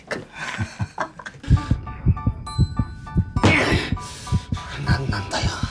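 Pounding heartbeat sound effect in a romantic drama: steady double thumps repeat at a quick pace under a low hum and music, loud and close throughout.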